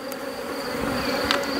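Honeybees buzz steadily at a hive where a swarm failed to take hold, a continuous close insect drone with no voices.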